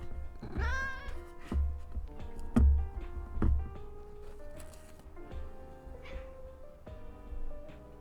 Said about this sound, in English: my cat keeps jumping up next to the mic.